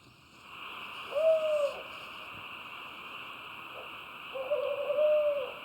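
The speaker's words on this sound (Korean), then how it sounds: "봉암사 숲의 최강자 올빼미의 울음소리다." An owl at Bongamsa temple forest gives two drawn-out hoots, a few seconds apart, moderately close over a constant insect-like background drone.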